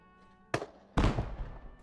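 Grenade launcher rounds exploding in the survival game Rust, two sharp booming blasts about half a second apart with rumbling decay, and a third starting at the very end.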